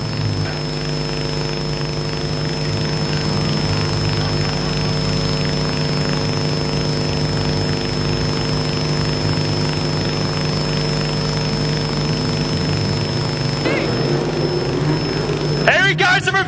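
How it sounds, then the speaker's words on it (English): A front-wheel-drive junior sedan doing reverse donuts at Carina Speedway, a sustained loud engine drone holding steady throughout, then rising and straining in the final seconds as a commentator talks over the crowd. "Here he goes, some reverse donuts."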